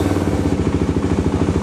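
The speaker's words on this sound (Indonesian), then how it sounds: "Sebagai contoh kita lihat starter" A Yamaha MX King motorcycle's electric starter cranks the engine in a quick, even, chugging rhythm, loud and close, with no talking.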